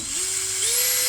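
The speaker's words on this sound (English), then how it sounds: "We're putting some temporary screws in as close to the wall as we possibly can" A power drill drives temporary screws close to a wall during luxury vinyl plank flooring installation, one loud continuous high whine that rises slightly in pitch as the screw sets.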